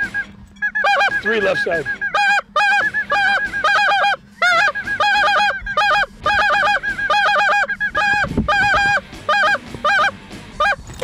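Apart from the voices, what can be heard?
Canada geese and snow geese honking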